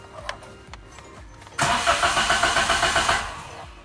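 A 660cc Suzuki Alto VXR (2021/22) car engine cranks and catches about midway, jumping from near quiet to a loud, close idle with a steady pulsing rhythm that settles slightly toward the end.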